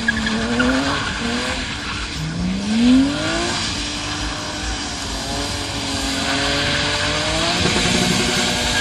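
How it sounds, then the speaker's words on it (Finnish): The S50 engine of a BMW E36 M3 coupe sits on the rev limiter, a loud sustained howl with stuttering cuts and tyre squeal at a car meet, with no talking. "Ja siellä on rajoitin S50 huutaa oikein nätisti"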